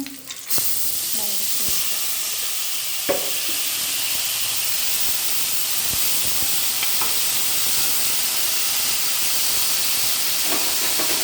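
Three small finely chopped shallots, added with a dried red chilli, hissing and sizzling loudly in hot oil, a dense continuous fry that starts abruptly and stays steady, close up, with a few faint clinks underneath.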